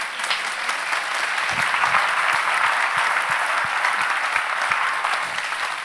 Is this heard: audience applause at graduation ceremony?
yes